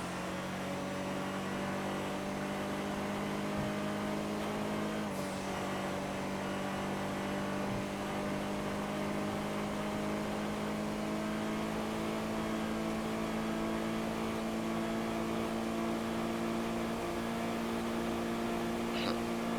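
Chavos V6, a Honda Accord in a driving video game, cruising with a steady droning engine hum that holds a near-constant pitch, shifting slightly once early on, close and continuous with no talking.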